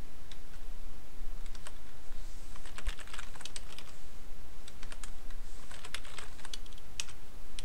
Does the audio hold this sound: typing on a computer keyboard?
yes